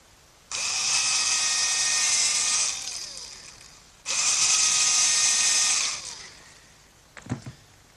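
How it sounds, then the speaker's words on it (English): A power drill whirs in two long, steady bursts of a few seconds each, drilling pilot holes in hard oak, then a brief clatter follows. "I'm going to have to drill a pilot hole for the screws, especially in this hard oak."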